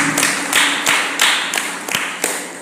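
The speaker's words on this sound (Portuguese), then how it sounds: "palmas para a criança" Steady, evenly spaced group clapping for a child during a children's Bible lesson, each clap landing roughly three times per second and fairly close, with no talk over it.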